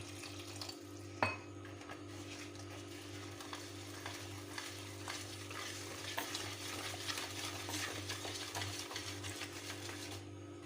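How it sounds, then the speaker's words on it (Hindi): Cake batter for a doll-shaped birthday cake, thinned with milk, being stirred in a bowl: a steady, continuous swishing and scraping with small clinks, close and fairly quiet, with no talking. "इसको अच्छी तरह मिक्स कर लेती हूँ।"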